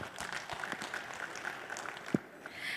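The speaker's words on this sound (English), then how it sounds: "Let's give another round of big applause for all the dignitaries in the dais." After a panel discussion at a tech conference, an audience gives a thin, scattered patter of applause, quiet and somewhat distant, with one sharper thump near the end.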